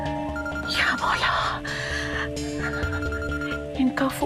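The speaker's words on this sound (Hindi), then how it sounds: "अम्मी फोन कर रही है।" A phone rings with an incoming call, a repeating electronic ringtone of steady tones heard under a voice speaking in a home drama scene.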